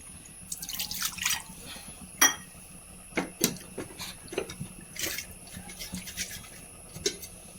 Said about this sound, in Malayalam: ഒരു 1/4 ഗ്ലാസ് കൂടി വെള്ളം ചേർക്കാം